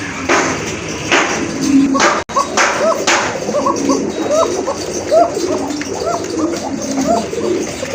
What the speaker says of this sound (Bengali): প্রচুর ডাকে, দেখার মতো এক জোড়া কবুতর